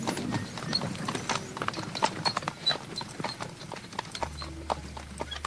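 Hooves clip-clop steadily as a horse-drawn wagon rolls along in a radio drama, the hoofbeats near and rhythmic with a faint creak of the wagon, ending with a low rumble.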